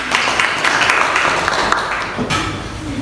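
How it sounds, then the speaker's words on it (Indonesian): Classroom applause for a student named Ayu Wahyuni, a few seconds of dense, fairly loud clapping from a small group nearby that fades slightly at the end. "Aplaus untuk Ayu Wahyuni"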